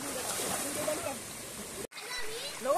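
Water sloshes and splashes continuously with voices over it, a brief cut near the end, then more splashing and chatter.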